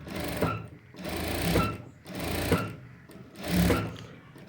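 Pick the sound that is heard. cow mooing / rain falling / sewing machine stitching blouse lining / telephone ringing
sewing machine stitching blouse lining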